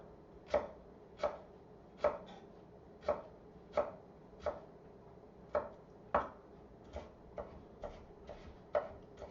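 A knife chops an ingredient finely on a wooden board for a Moroccan-inspired beef stew, about a dozen sharp, close knocks in a steady, slightly uneven rhythm with quiet gaps between, and no talking.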